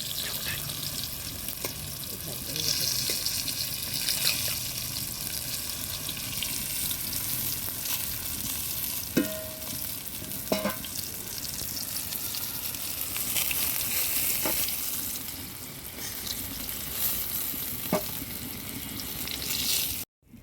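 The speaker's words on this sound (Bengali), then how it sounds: "মোটামুটি হয়ে গেছে কাঁকরোলটা ভাজা" Pieces of kakrol (spiny gourd) fry in hot oil, a continuous soft sizzle held at a steady level with occasional light clinks of a utensil stirring the pan.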